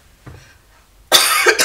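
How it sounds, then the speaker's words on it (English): A person coughs sharply at close range, a faint throat sound first followed by a loud burst of coughing near the end, with no talking. "sorry, I'm coughing now"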